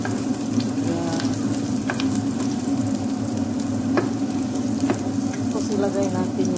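Onion sizzling steadily in a hot pan for pancit with sausage, garlic going in alongside, a constant close frying hiss with occasional light stirring clicks and no talk.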